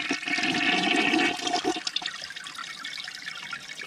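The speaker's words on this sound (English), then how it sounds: "They use it. They flush it." A toilet flushes with a loud rushing gush of water that fades after about two seconds into a quieter trickle and gurgle, with no talk.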